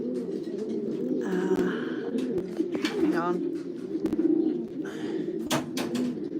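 Racing pigeons coo in soft, repeated throaty bursts while being basketed for a race at Honiton, close by and under bits of talk, with a few sharp knocks and rustles.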